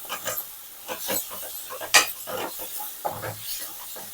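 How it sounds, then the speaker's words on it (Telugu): A spoon stirring gongura (sorrel leaf) curry in a pan, with repeated soft scraping and clinking strokes at an irregular rhythm and a faint sizzle underneath. "ఒకసారి బాగా కలిపేసుకోవాలి."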